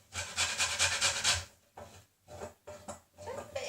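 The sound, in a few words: grating lemon zest with a grater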